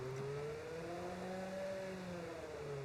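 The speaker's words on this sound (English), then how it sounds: "We're using the F1 engine sound pack on overtake.gg." F1 race car engine in a video game, played through an F1 engine sound pack mod, a continuous high-pitched whine that rises and falls smoothly as the car accelerates and eases through a turn.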